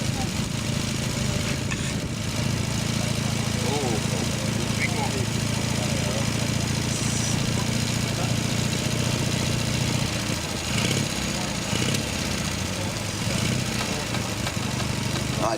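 A World War II motorcycle engine idles steadily throughout at a battle reenactment, a continuous mid-pitched chugging drone under ongoing voices and background crowd noise.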